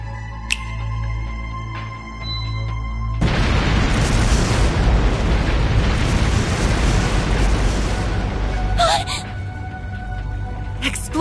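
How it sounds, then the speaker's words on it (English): Video game fireworks erupt in a dense, continuous roar of booming bursts lasting several seconds, loud and crackling, over a low background hum, then cut off abruptly. "I figure I can whip up a nice little fireworks show"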